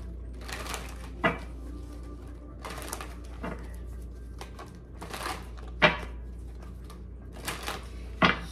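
Tarot cards are shuffled in a quiet room, with several short papery riffling and slapping bursts spaced irregularly across the stretch.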